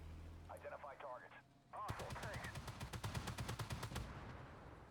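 Rapid bursts of gunfire from a Rosomak armoured vehicle in a video game, a fast machine-gun rattle of about a dozen shots following a brief stretch of radio-style talk.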